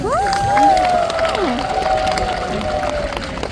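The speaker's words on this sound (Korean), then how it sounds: "우리 모두에게 박수 한번 드립시다" A large crowd at an outdoor stage show cheers and shouts, with some clapping mixed in, loud and close at first and then easing into a sustained roar of voices.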